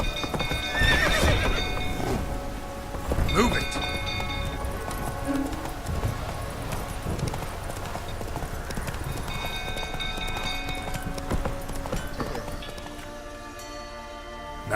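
Roach, a horse in The Witcher 3 video game, gallops with rapid clip-clop hooves and snorts and whinnies, while someone briefly speaks over the steady hoofbeats.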